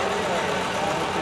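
At a Stars and Stripes Day parade in Guttenberg, a tractor being raffled idles with a steady, broad engine rumble. The engine runs continuously over the whole moment, with crowd noise and voices underneath.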